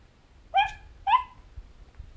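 A voice imitates a dog with two short, close bark-like yelps about half a second apart, followed by quiet background.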